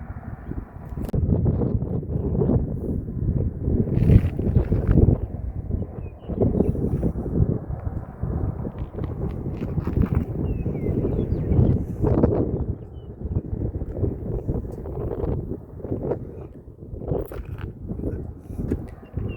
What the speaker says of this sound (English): It's the windy state of South Dakota.